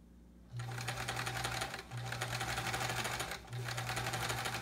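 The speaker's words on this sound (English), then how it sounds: "I think I'm sewing these a little scant" Sewing machine stitching quilt pieces in short runs, a rapid close rattling whir with a low motor hum, pausing briefly twice between bursts, no talk.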